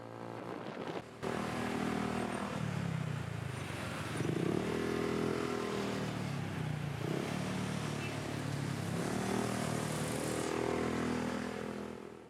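A moto taxi motorcycle rides through Philippine traffic, its engine droning steadily up close with rising and falling revs as it weaves and turns, amid surrounding road noise.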